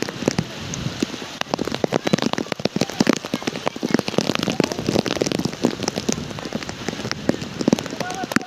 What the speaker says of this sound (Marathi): पाऊस पण खूप आहे